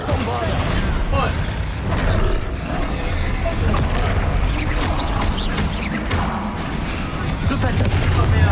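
A Bombarda spell goes off in Hogwarts Legacy during a fight with a troll, loud booming blasts and crashing debris over dense game noise that carries on for several seconds.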